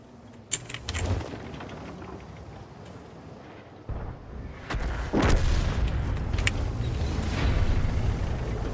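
Artillery shells firing in a tank video game, heavy booming blasts with a sharp report early on and another strong boom midway, set over a continuous dense battle rumble.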